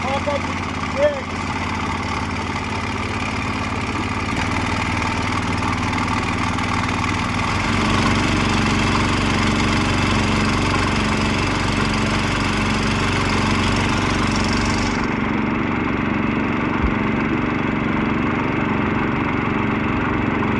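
Small engine on a floating dredge running steadily to pump up the jigs, giving a constant droning hum. It grows slightly louder partway through, then a high hiss drops out near the end, and a brief voice comes early.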